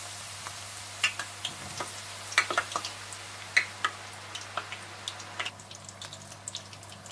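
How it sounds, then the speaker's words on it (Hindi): Eggplant pieces fry in hot oil, giving faint, scattered crackles and sharp little pops over a quiet steady hum, with no talking. "तेल में थोड़े थोड़े बैंगन डालकर फ्राई कर लीजिएगा"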